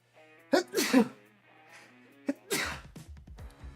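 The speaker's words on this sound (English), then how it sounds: "Oh fuck, I gotta sneeze." A single loud sneeze close up, preceded by a few sharp breathy intakes, then quiet rustling.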